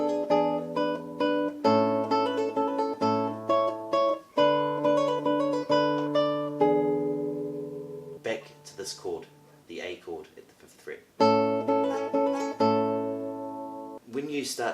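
A classical guitar plays a passage from Carcassi's Etude No. 10, with clear plucked notes and ringing chords, a few pauses, and a separate phrase picking up again after a short break.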